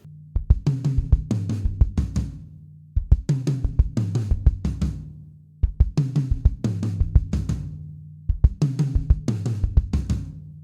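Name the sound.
drum fill played faster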